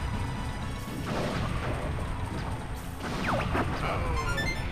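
A crane is bombed and crashes down in Star Fox 64, with booming explosions, a crunching crash and quick laser-like zaps over a steady roar of battle noise.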